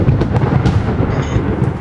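A video game thunderstorm gives off a deep, steady roll of thunder with a rain-like hiss underneath, loud and continuous throughout.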